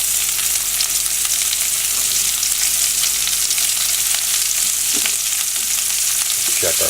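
Onions sizzling in a pan with crisp bacon, cooked on board a boat, a loud, dense, unbroken frying hiss heard close up with no one talking.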